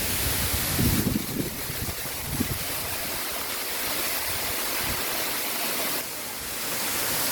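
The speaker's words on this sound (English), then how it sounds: "Argyle Waterfall, people." Argyle Waterfall in Tobago roars as a steady, loud rush of falling water, broad and continuous with no voices over it.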